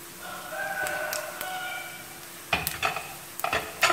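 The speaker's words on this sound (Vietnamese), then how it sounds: "Mình dán tóp mỡ kỹ một chút nhưng không phải là quá kỹ ạ" Pork rinds (tóp mỡ) fry in a pan just after the stove is turned off, giving a soft sizzle, then clattering stirring scrapes near the end.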